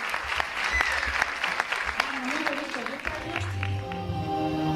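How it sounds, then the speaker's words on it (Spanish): Sustained audience applause fills a hall after the introduction to a stage musical, dense clapping with a few voices over it and music entering toward the end. "aplaudidle mucho, que se lo merecen"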